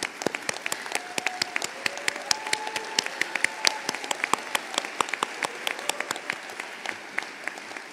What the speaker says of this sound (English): Can we have them stand and just give them a round of applause, please?